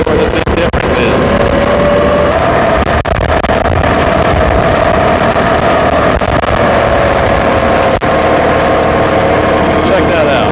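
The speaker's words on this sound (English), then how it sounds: "You could hear the engine lug a little bit, but I'm only at 1500 RPM" A New Holland Workmaster tractor's diesel engine drones steadily and loudly at low revs while lugging uphill, a continuous close rumble with a faint tonal whine and occasional speech over it.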